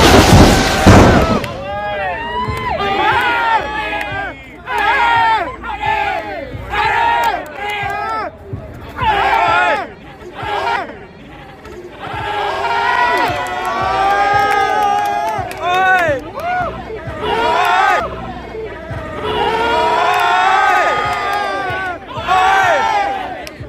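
At a street fight, a crowd yells and shouts in repeated excited bursts, loud and close, with many overlapping voices rising and falling throughout.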